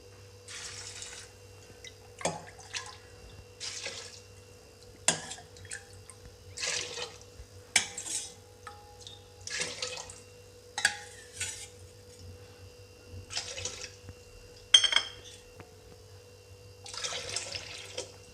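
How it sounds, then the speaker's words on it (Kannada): Water pours into a pressure cooker holding vegetables, rice and lentils in repeated splashing bursts from a small cup, steady and fairly close, with faint clinks between pours. "ನಾನಿಲ್ಲಿ ಆರು ಬಟ್ಲು ನೀರನ್ನು ಹಾಕ್ಕೊಳ್ತೀನಿ"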